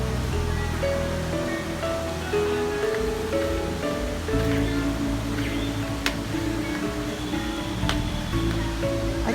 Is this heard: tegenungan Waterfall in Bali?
yes